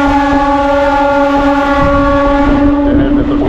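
A Medinipur local train on the Howrah to Digha line runs steadily, its continuous low rumble topped by a sustained tonal whine that holds for the whole stretch.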